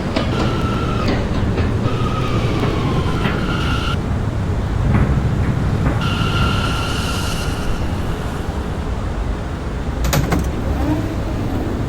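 An R179 M subway train runs between Flushing Avenue and Marcy Avenue on the Myrtle Avenue Line, with a loud continuous rumble and wheel noise throughout, occasional squeals and clicks, and no voices.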